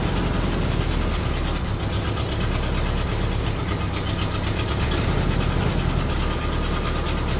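1965 Ford Galaxie engine bogging down under load as the car creeps forward, a steady, loud, rough low-pitched rumble with knocking pulses and no talk.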